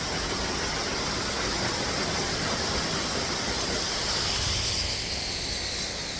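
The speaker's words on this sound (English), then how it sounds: "Here we are at a little waterfall just right in town of Seward." A small waterfall in the town of Seward, Alaska, heard as steady, broadband rushing water that stays even and continuous throughout, with no voices.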